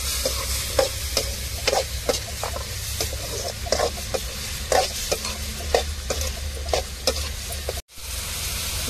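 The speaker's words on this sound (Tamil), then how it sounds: "வெங்காயமும் தக்காளியும் நல்லா வதங்கணும்." Onions and tomatoes sauté in a hot pan for a dried-fish curry, a steady sizzle broken by regular scraping stirs of a spoon against the pan, close and continuous with one brief break near the end.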